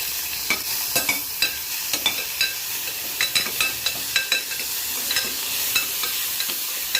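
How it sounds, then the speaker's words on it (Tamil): Onion and tomato sauté in sesame oil with mustard seeds, a loud continuous sizzle punctuated by rapid, irregular sharp crackles and pops throughout. "கொஞ்சமாக வெங்காயம், கொஞ்சமாக தக்காளி சேர்த்து வதக்கிக்கிறேன்"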